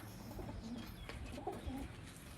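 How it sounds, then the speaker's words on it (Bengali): Pigeons cooing on a sunny rooftop, several soft low coos close by over a faint steady background. "পায়রাগুলোকে প্রথমে এক এক করে ধরে নিই।"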